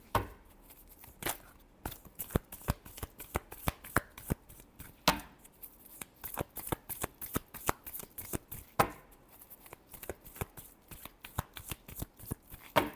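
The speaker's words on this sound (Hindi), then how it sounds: "Last shuffle." Tarot cards shuffled by hand in a long run of quick, crisp riffling slaps, irregular but rapid, close and fairly quiet with a few brief pauses.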